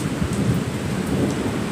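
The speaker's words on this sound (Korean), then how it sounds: "그리고 천둥까지 치고 있습니다" Steady rain with low rumbling thunder during an outdoor public rally, a continuous wash of falling rain under deep rolling rumbles, loud and close throughout.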